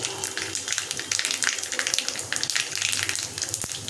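Black mustard seeds, nigella and dried red chilli crackle in hot oil in a pan, a dense, busy sizzle full of rapid pops and spits that holds steady and close throughout.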